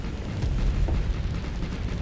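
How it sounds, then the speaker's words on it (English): Heavy autocannons firing in the space combat game Starsector, a dense, continuous rumble of booming low blasts blending into a steady roar with no talk. "Let's go to our heavy auto cannons."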